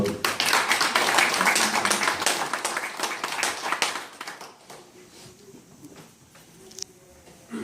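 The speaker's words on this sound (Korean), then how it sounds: "뜨거운 박수로 환영해 주시기 바랍니다." At a formal indoor gathering, an audience welcomes a speaker with dense, lively applause that holds for about four seconds and then dies away into room murmur, with a single stray clap near the end.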